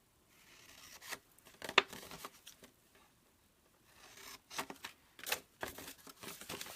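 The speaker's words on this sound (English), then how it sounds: "I'm going to take my scissors and I'm going to cut up to the score line" Quiet snipping and crinkling of paper in short bursts, with a pause in the middle before several more cuts.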